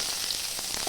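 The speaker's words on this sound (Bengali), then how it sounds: "গরম হয়ে যাওয়া তেলে দিয়ে দিলাম" Hot oil sizzling steadily in a heated kadai just as onions go in, a close, even crackle with no voices over it.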